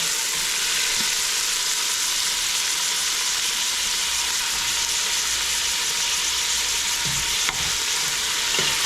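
Chopped tomatoes fry in a stew pot with a steady, loud sizzle, and a spoon stirs through them now and then, the hiss continuing unbroken throughout.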